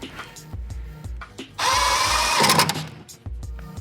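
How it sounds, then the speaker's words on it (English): A power drill driving bolts to secure a car's airbox, a close whine lasting about a second between scattered clanks and rattles of handling parts. "This box was bolted down, so I'm gonna go ahead and bolt it down."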